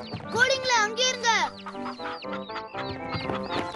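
Chickens cluck in a cartoon, a run of animated hen calls up front followed by busier clucking and chatter, with character voices mixed in.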